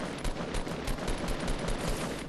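Rapid bursts of gunfire from Fortnite crackle in quick, rhythmic volleys at a steady moderate loudness, with no voices over them.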